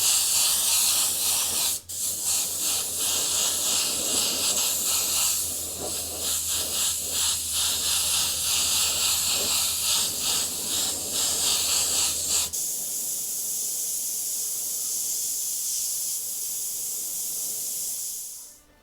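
An airbrush sprays paint steadily in continuous close hiss, dusting freehand over an edge of Grim Reaper artwork, with a brief low compressor hum beneath that stops partway before the spray fades out.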